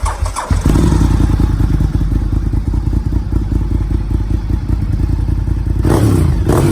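A Honda RC51 motorcycle cranks and catches, then settles into a loud, close, lumpy idle with a steady throbbing pulse, and a short blip of throttle comes near the end.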